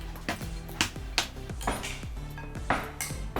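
A spoon knocks and clinks steadily against a bowl while chicken is mixed with vinegar and soy sauce into a marinade, a quick run of close, bright metallic taps without any voices.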